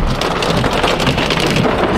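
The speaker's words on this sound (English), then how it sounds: "So we're currently trapped in a hailstorm." A hailstorm pounds on a car, making a dense, loud, steady patter of hits on the body and roof with no gaps, heavy and close like a downpour.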